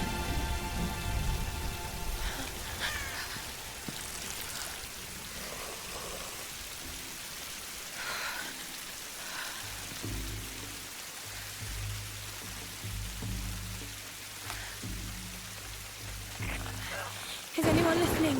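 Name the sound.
rain falling, from video game Tomb Raider 2013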